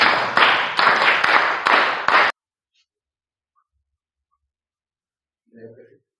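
A group claps together in several quick, rhythmic bursts of applause after a riddle is answered correctly, then falls silent, with a short spoken voice near the end.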